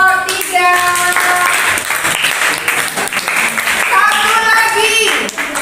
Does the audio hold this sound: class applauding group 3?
yes